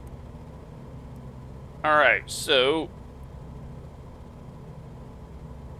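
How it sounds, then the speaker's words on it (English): A rough-running aircraft engine in Microsoft Flight Simulator drones low and steady throughout, with someone briefly speaking over it partway through. "Engine sounds a bit rough in this."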